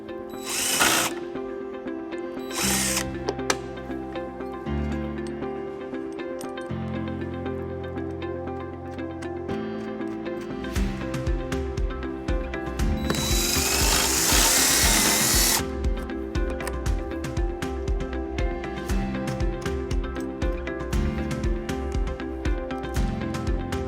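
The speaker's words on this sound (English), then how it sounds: "we're going to be using a 3/16 drill bit" A power drill with a 3/16 bit whirs in repeated bursts, its pitch rising and falling as it bores holes in a 2003 Acura MDX, with clicks and clatter from handling between runs; close and fairly loud.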